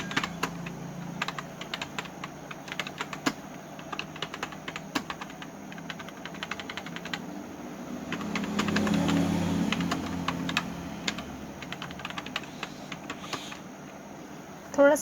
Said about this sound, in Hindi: टाइप करना पड़ेगा